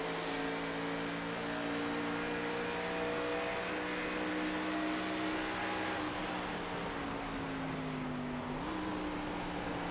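Race car engine in an ARCA series sim race at Twin Ring Motegi, droning steadily at moderate level, then dropping in pitch on a downshift and rising again as it shifts back up.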